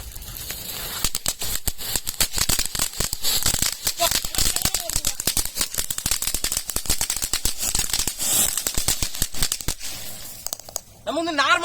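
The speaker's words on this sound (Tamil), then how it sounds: "இப்போ நம்ம வந்து புஷ்வானத்தை வந்து கொளுத்த போறாங்க பாருங்க" A pushvanam fountain firecracker burns at night, giving a loud, dense crackling and popping spray that continues steadily for several seconds with sharp bursts. A voice talks over it near the end.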